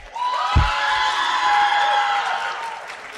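A crowd at an esports banquet erupts into cheering and whooping with applause underneath, a sustained loud roar that slowly fades.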